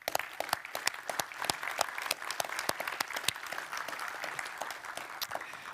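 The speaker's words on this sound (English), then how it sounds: "Honestly, I feel that the Zig team deserves a round of applause here." A conference audience at a systems programming talk gives a round of applause, fairly quiet and thin, with distinct individual claps sounding at an uneven rhythm.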